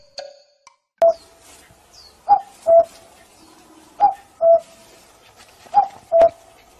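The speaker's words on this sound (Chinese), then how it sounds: "每年春天的时候，布谷鸟小姐姐都会唱起她著名的布谷情歌" A cuckoo sings its spring call, three clear two-note 'cu-coo' phrases spaced evenly apart, ringing out alone over near silence.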